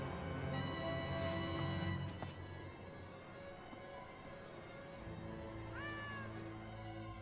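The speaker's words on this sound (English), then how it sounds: "I guess I'll follow the mysterious cat that looks like Star" A glowing cat in the video game Gravity Rush Remastered gives a short meow amid the game's steady ambient music and effects, fairly faint within the mix.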